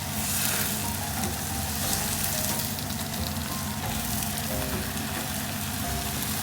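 Scallions stir-fry in a hot pan while a Chinese mushroom and greens dish cooks, giving a steady, close, dense sizzle with faint stirring scrapes throughout and no talking.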